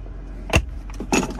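Two sets of keys for a diesel GMC Sierra AT4 pickup jangle in two short metallic bursts, one at the start and a louder one at the end, close to the mic with no talk.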